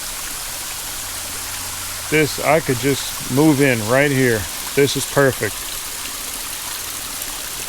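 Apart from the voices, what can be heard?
waterfall flowing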